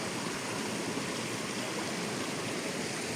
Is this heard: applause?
no